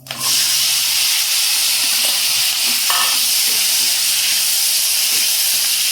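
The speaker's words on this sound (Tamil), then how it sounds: "இப்போ நம்ம சின்ன வெங்காயத்தை போடலாம்." Small shallots drop into hot oil for a village-style dry fish gravy, setting off a loud, steady sizzle and hiss that carries on without a break, with faint stirring clinks underneath.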